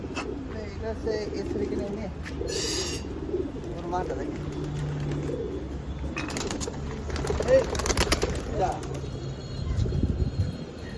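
Racing pigeons cooing nearby in a loft, soft repeated calls mixed with occasional wing flutters, while people talk over them.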